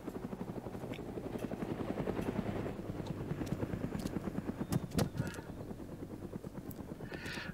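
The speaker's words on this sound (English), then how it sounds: "this helicopter's just going to keep on circling, aren't they?" A helicopter circling overhead in a video game, its rotor chopping steadily and pulsing louder and softer, with a few sharp bangs near the end.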